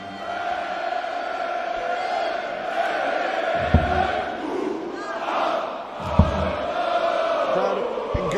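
A large darts crowd at the International Darts Open roars continuously, with sustained chanting and scattered shouts and whoops filling the hall at high volume.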